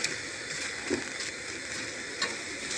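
Mushrooms cook in a pan with a continuous, fairly loud sizzle and crackle, broken by a few soft taps. No voices are heard.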